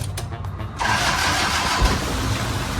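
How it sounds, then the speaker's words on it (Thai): A 2005 high-roof long-wheelbase van engine cranks briefly, then catches and settles into a steady, rumbling idle, close by with no talking. "เดี๋ยวเขาฟังเสียงเครื่องยนต์หน่อย"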